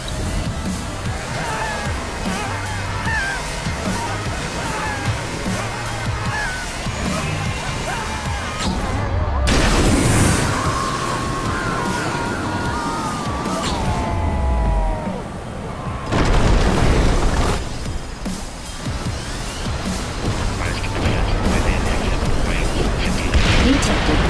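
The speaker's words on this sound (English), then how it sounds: "Detected multiple explosions." Repeated booming explosions and crashing destruction in the video game ScreamRide's demolition mode, loud broadband bursts that swell and break off several times amid rumbling debris, with musical tones and game effects underneath.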